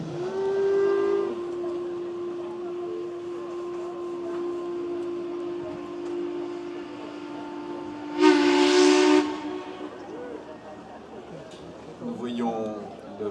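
The paddle steamer Savoie sounds a loud steam whistle for about a second as it pulls away from the shore at a lake boat parade in Rolle, over a continuous low tone and background chatter.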